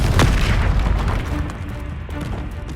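A loud, close boom from a Confringo fire spell explosion in Hogwarts Legacy opens the clip, then decays into a rumbling tail with faint crackles.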